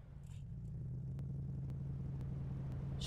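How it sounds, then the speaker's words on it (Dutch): A bus engine in the War Engines video game gives a steady, low droning hum with a strong bass tone, holding unchanged for the whole stretch with no voices. "Het is gewoon een bus."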